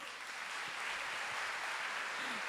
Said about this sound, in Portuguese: Pode aplaudir que isso é verdade.